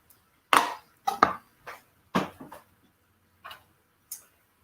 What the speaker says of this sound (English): little chopper for my onion